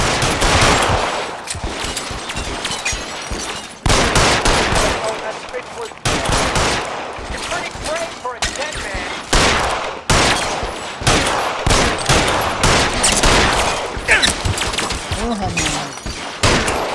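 Rapid bursts of gunfire from the L.A. Noire video game, loud and repeated shots with sharp gaps between volleys across the whole stretch, some thuds mixed in.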